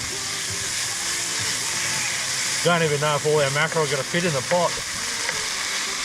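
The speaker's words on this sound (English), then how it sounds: "So now we've got to add some chili paste. After we get the onions cooking a little bit, we'll get a proper amount in there." Onions and chili paste fry in a pan at a remote riverside campsite, giving a steady sizzle throughout while someone talks over it.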